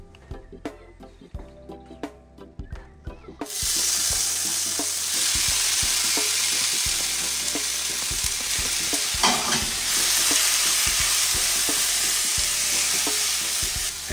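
Food dropped into a hot pot in a home kitchen, starting with clattering handling knocks and then a loud continuous sizzle with irregular stirring knocks and scrapes throughout.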